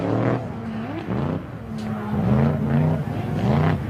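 Drift cars at a Queensland Raceway drift competition accelerating hard through a corner, engines rising and falling in pitch through several revving surges with tyre noise, loud and close.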